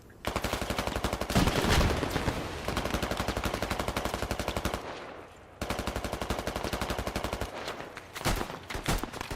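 Mounted gun in a video game firing long, loud, rapid automatic bursts, a short pause between them, then a few scattered shots toward the end.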